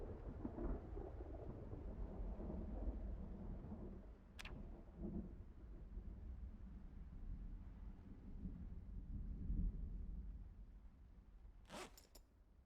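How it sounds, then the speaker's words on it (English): A video game thunderstorm plays on its own with no talk: a low, steady rumble of rain and wind, with a sharp crack of thunder near the middle and another bright burst near the end. "I just don't like how stormy it is right now."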